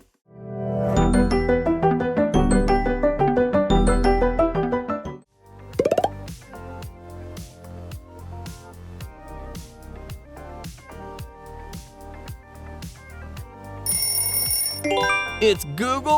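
Google Pixel smartphone ringtone: a bright, melodic electronic tune, loud and close, with a shifting bell-like figure that changes texture partway through and ends with a rising high tone.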